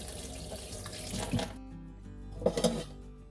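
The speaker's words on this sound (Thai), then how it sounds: "ทีนี้ก็ใส่น้ำซาวข้าว น้ำน้ำที่หุงข้าวอะค่ะ หุงข้าวแล้วรินน้ำ" Rice-washing water gets poured over garlic mustard leaves for pickling, a running splash of liquid that cuts off midway, then a few brief sloshes and drips close by.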